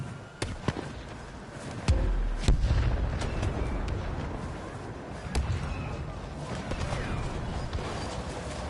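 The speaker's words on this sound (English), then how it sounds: "Grenade out!" A grenade goes off in Star Wars Battlefront 2 as a heavy low boom near the two-second mark, followed by rumbling battle noise and scattered sharp impacts throughout, with a voice talking over the action.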